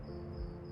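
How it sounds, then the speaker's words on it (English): Crickets chirp outdoors at night, a steady high-pitched trill that runs without a break under a low, constant background hum. "listening to the crickets outside"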